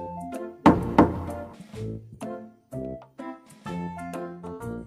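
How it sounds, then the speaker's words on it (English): Several sharp knocks on a door in a children's trick-or-treating scene, two loud raps near the start followed by softer thuds, with musical tones running underneath. "Knock on the door."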